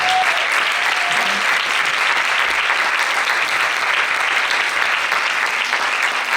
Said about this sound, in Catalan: Sisplau, un fort aplaudiment.